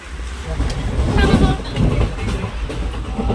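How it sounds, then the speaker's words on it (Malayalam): Continuous rumbling rush of a fast-moving train heard from inside, with faint rhythmic rattling and a steady, loud roar throughout. "ഞങ്ങളുടെ ട്രെയിൻ സ്പീഡിൽ പോയിക്കൊണ്ടിരിക്കുകയാണ്"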